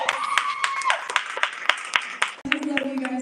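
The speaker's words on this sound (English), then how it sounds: "Give yourselves a round of applause." Audience applause at a live Mr. World Philippines pageant screening, a crowd clapping with crisp, fairly loud claps that thin out briefly and then pick up again, with a voice faintly mixed in.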